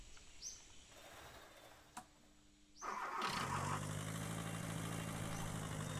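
A car engine starting in the video game The Long Drive: a brief click and whir, then the engine catches at about three seconds and settles into a steady, loud idle.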